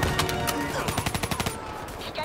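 Rapid automatic gunfire in Black Ops 3, a fast rhythmic burst of close shots over a dense battle din, with a voice speaking briefly underneath.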